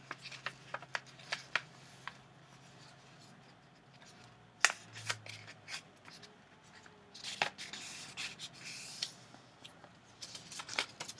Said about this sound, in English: I have to fold it in half.